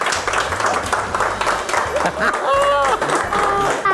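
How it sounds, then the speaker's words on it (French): An audience at a Christmas family event claps in applause beneath a loud, continuous voice, with a high musical tone running through the latter half. "Et on applaudit la petite famille."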